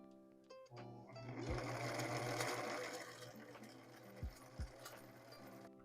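A sewing machine stitches fabric in a steady whirring run for a couple of seconds, then stops, followed by a few quiet thumps and handling noises; no talking.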